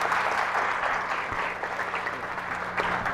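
An audience at a real estate seminar applauds steadily, a dense wash of clapping hands that holds evenly for a few seconds without speech.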